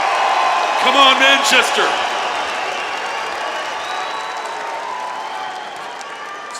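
Crowd at a deadlift competition cheering and applauding, a swell of clapping and shouts early on that fades into a lingering murmur, with a voice calling out over it.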